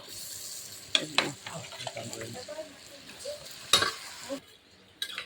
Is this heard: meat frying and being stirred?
yes